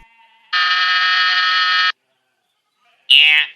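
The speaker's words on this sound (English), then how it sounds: "Ring the buzzer, Bev." A loud electronic buzzer sounds once for over a second, then after a short silence a second brief harsh buzz follows.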